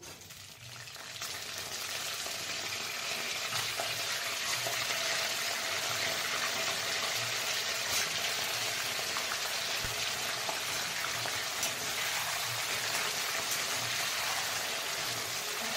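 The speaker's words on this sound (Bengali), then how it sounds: "প্রথমেই আমি চচ্চড়ি কপিটা ভেজে নেব।" Cauliflower frying in oil in a pan for Bengali churchuri, a dense, even crackling sizzle that swells after the first second and holds steady and close throughout, with no speech.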